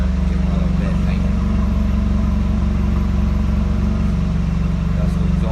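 A turbocharged 2.2 OHV engine running on 12-14 psi of boost through a 3-inch exhaust off the turbo, a loud, close, steady deep idle rumble with a throbbing low pulse that holds constant throughout.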